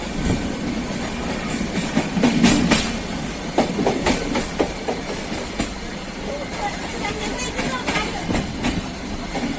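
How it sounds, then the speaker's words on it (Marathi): A train departs a station on the Pune to Mumbai route, rolling out loudly and close by, its wheels clattering in a steady clickety-clack rhythm, with faint voices underneath. "ट्रेन डिपार्चर झालेली आहे स्टेशनमधून पुढे"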